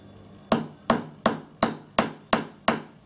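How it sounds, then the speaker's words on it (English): Seven sharp, evenly spaced taps of a small hammer in a steady rhythm, close and crisp, each striking a small cutter through fabric with a brief knock. "you hammer it, oh not that hard, so that the fabric goes into the hole"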